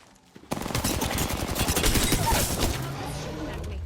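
Rapid automatic gunfire in the Apex Legends video game, a loud sustained burst of shots starting abruptly and rattling on for several seconds before tapering off.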